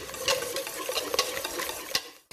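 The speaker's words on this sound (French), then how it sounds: "Et je mélange à nouveau énergiquement." Vanilla cupcake batter with melted butter is beaten vigorously in a bowl, giving quick wet stirring strokes and a few sharp clicks of the utensil against the side. It is close and alone, ending abruptly.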